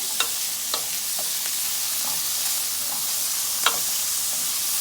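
A hearty fall vegetable soup with carrots and celery is stirred in a pot, bringing a steady soft sizzle and a few sharp spoon scrapes and clinks against the metal.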